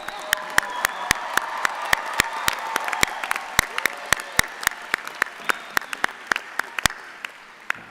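Law school commencement audience applauds the graduating class, with a wash of crowd clapping punctuated by sharp, regular loud claps close by that continue throughout.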